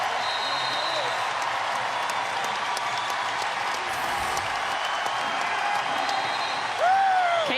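Arena crowd at a women's college basketball game between Iowa and Drake roars with sustained applause and cheering for Caitlin Clark, a dense steady wall of noise with a sneaker squeak or whistle-like tone near the end.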